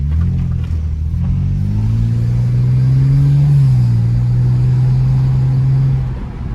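BMW car engine accelerating on the road, heard from inside during a drive: a steady, loud mid-pitched engine drone rising in pitch through the revs, with rumbling low end and no talking.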